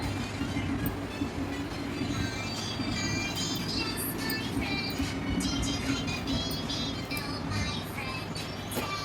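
A sewing machine runs steadily while stitching an embroidery outline for a border, giving a continuous, fairly loud mechanical clatter and rumble with faint voices in the background.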